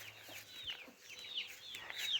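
Soft, repeated high chirps and peeps like chicks, with faint low clucking beneath, fairly quiet and steady throughout.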